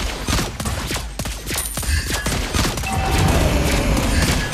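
Lesley's shots in Mobile Legends, a rapid burst of sharp gunfire cracks and booms, dense at first and then thinning into a rumbling tail, loud and close with no voices.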